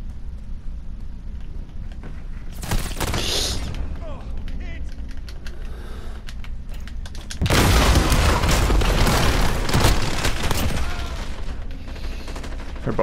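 Rifle gunfire in a shooter video game, loud bursts of shots with a dense stretch of firing in the second half amid game noise and clicking.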